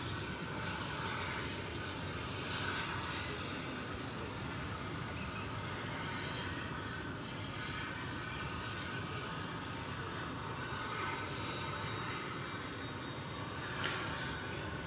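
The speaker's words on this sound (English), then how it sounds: "We're lucky enough to see the departure of an MD-11." A UPS McDonnell Douglas MD-11 jet departing from DFW Airport at night, a faint, distant broadband roar that holds steady throughout with no talking.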